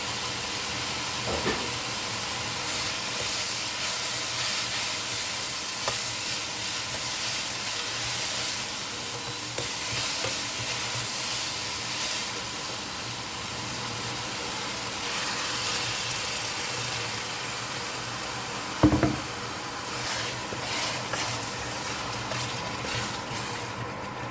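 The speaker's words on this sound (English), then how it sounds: "Now we'll add our masala paste." Masala paste sizzles in a pan for a Goan pink perch coconut fish curry, a continuous even hiss with occasional soft clinks and one brief knock near the end, no voices.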